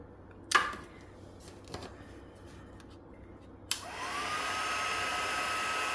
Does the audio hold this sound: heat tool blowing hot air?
yes